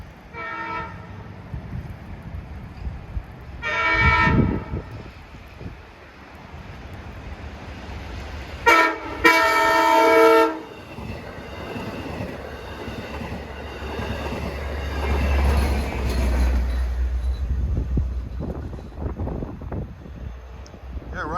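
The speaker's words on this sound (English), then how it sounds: "We have a westbound equipment train from Patchogue to Babylon." A westbound equipment train from Patchogue to Babylon on the snowy Montauk Branch sounds two loud horn blasts, then passes with a swelling low rumble and wheel noise, while a voice speaks briefly near the start.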